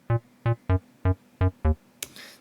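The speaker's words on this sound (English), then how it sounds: "It's okay, pretty okay bass sound to work from, but it's not very interesting." A dry, plain sampled bass with no processing plays six evenly spaced, punchy notes with a clear harmonic tone, then a short burst of hiss closes it out.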